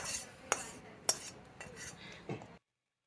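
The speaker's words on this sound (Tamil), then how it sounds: "அப்படியே நல்லா கிளறி விடணும்" A spoon stirs a tempering of pepper, cumin and cashews into ven pongal in a pot, making a few close clinks and soft scrapes before falling silent.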